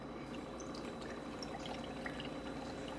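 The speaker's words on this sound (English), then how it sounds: "And I'm gonna take the milk, and we're gonna pour it" Milk pours into a cup of iced coffee beside a Ninja Hot and Cold Brewed coffee maker, a soft, steady liquid trickle with faint splashes, quiet and continuous with no talking.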